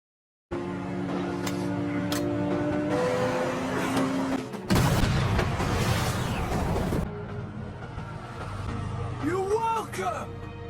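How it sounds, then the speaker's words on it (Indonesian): A crashing, burning aircraft explodes in a film, a sudden loud blast with a rumbling roar lasting a couple of seconds, set amid other action noise while a narrator talks throughout. "Karena kerusakan parah pada pesawatnya, yang mengakibatkan terjatuh dan meledak terbakar, si Lee bergegas mengejarnya"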